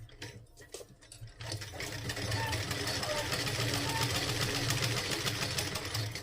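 Sewing machine stitching a salwar seam at a half-inch allowance, running as a continuous, even mechanical whir for most of the clip after a few brief handling knocks at the start.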